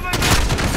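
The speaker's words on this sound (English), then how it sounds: "lay down some cover fire, please" Loud, dense burst of gunfire in Call of Duty Modern Warfare (2019) during a mission, a sharp onset followed by a sustained volley of overlapping shots filling the short moment.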